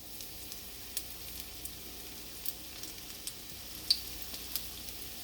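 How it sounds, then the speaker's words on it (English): Pakora batter fries in hot oil, giving a faint, soft sizzle broken by scattered small pops and crackles, heard up close with no talk. "Can you hear the sizzle? That means the oil is at the right temperature."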